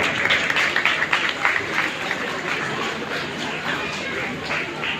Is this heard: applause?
yes